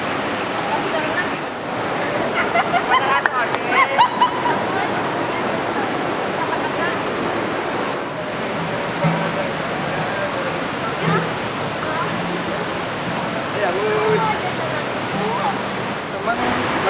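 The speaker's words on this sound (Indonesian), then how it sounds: "sekarang lagi ada di aliran Sungai Sangiang Kenir" Water of the Sanghyang Kenit river rushes steadily at Cipatat, Rajamandala, in West Bandung, a dense, continuous roar with faint voices mixed in.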